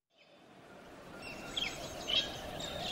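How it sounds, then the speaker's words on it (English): Birds chirp and tweet in a quiet outdoor setting, with soft scattered calls fading in over a faint steady background. "Listen to the birds."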